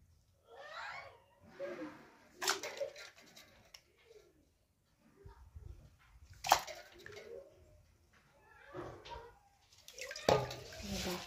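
Water sloshes and splashes in short bursts as peeled items are dropped into a bowl of water, fairly close and soft, with quiet pauses between the movements.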